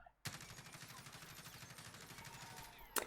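Kilo 141 rifle with a GI Mini Reflex sight and no suppressor firing in Warzone, one sustained burst of rapid, evenly spaced automatic shots lasting under three seconds, loud and close, ending abruptly.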